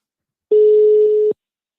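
A telephone line sounds one steady, clean tone for under a second, then cuts off to silence, with no voices.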